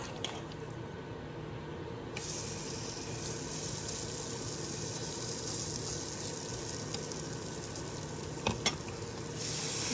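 Sweet potato waffle batter steadily sizzling and crackling on a hot waffle iron, with a brief louder hiss near the start and a couple of sharp clicks near the end.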